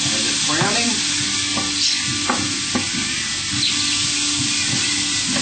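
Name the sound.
meat browning and stirred with spatula in Teflon pan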